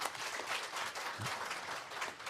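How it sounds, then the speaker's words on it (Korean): Applause from the audience at a panel talk on youth issues, a sustained even wash of clapping heard from a distance, fairly faint, with no talking over it. "박수 한번 주시고요"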